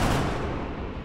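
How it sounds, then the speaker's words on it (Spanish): A heavy blast in the video game XCOM 2 booms briefly, loud and dense, its rumble tailing off within about a second. "Que ahí creo que no te afecta la explosión."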